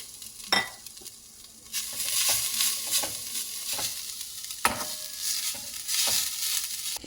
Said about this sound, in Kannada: ಇದೇ ಬಾಣಲಿಗೆ ತೆಂಗಿನಕಾಯಿ ತುರಿನ ಹಾಕ್ಕೊಂಡು ಗೋಲ್ಡನ್ ಕಲರು ಹುರ್ಕೊಳ್ಬೇಕು